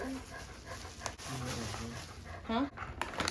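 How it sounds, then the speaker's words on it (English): A puppy whimpers in short, rising whines on a house porch, a faint cry near the end set against background noise and people talking. "Alright, we got us a pup."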